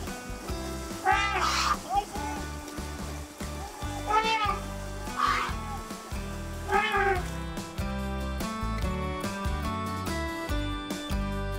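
A kitten meows about four times, each call clear and drawn out, rising over a continuous music backing.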